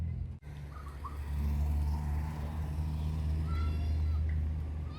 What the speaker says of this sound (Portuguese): É porque ele fica miando o dia inteiro